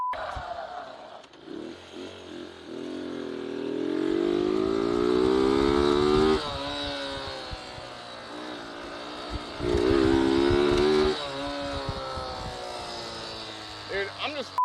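A 1967 Honda CL90 JDM import motorcycle revs and accelerates at speed, its small engine whining up through the gears, loud and close with wind noise. Riders talk over it.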